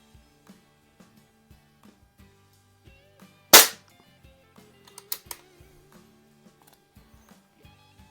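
A Crosman 1701p air pistol fires pellets, with one sharp loud crack and a second quieter shot later among faint regular clicks and handling noises at close range.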